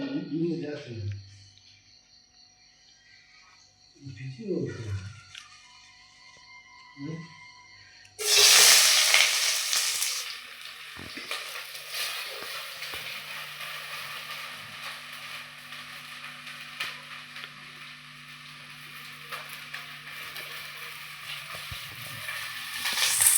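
Onions frying in a pan, a steady hiss and sizzle that starts abruptly and carries on at moderate loudness, with a voice talking before the frying begins and again over it.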